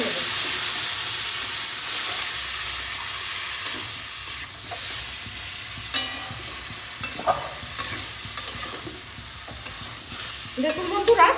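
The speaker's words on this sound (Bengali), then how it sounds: "অল্প জল দিয়ে এই সবজিগুলোকে একটু কষিয়ে নেব।" Mixed vegetables stir-fry with dry spices and a splash of water in a pan, a loud continuous sizzle broken by scraping spatula strokes that grow busier near the end, with no voices.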